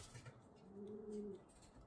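Pigeons in an aviary give a soft, faint cooing call lasting about a second, set against quiet background rustle.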